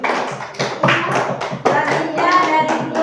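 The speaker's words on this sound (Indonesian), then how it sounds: "tepuk tangan kelompok 3" Classroom of pupils giving a group rhythmic applause, close, uneven bursts of hand claps and taps with some voices mixed in.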